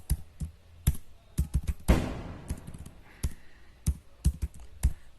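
Keys clacking on a computer keyboard while entering data into an Excel spreadsheet, sharp irregular clicks in short bursts with a brief flurry of fast typing near the middle, close and fairly quiet, no talking.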